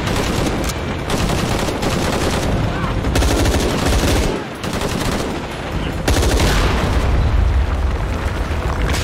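A large explosion booms amid sustained gunfire in Shadow of the Tomb Raider, with loud, dense bursts of automatic fire and heavy blasts filling the scene almost without pause and a brief dip partway through.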